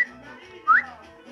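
A short whistle from a person, a single quick rising note standing out over a quiet background.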